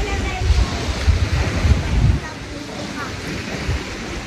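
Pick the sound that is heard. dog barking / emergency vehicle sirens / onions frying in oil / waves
waves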